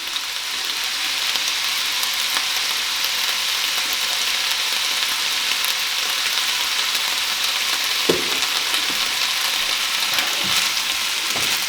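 Steady, close sizzling and crackling of food frying in a pan, with a few soft stirring scrapes and no talking.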